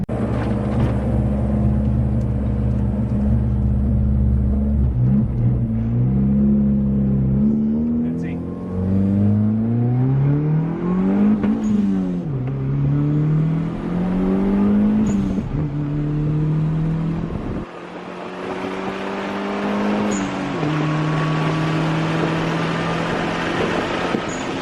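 A turbocharged stock Honda D15b engine car with an eBay turbo kit running about 8 psi accelerates hard from a two-step launch, its engine note climbing loud and close through several rising gear pulls, with a brief dip at a shift.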